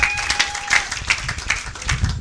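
A church congregation applauding together, steady clapping from many hands, fairly loud and close, with a few voices mixed in.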